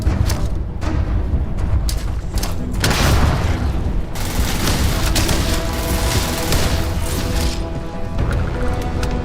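Grenades in Starfield go off in a burst of booming blasts and crashes, several heavy bangs early on followed by rumbling impacts and gunfire-like clatter, with little talk.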